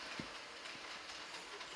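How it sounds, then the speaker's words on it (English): A model commuter train runs along the upper level of a Rhineland-themed model railway layout, giving a steady, faint rolling hiss and rumble with a few light clicks from the track, and no talking. "The commuter train you can hear is going down"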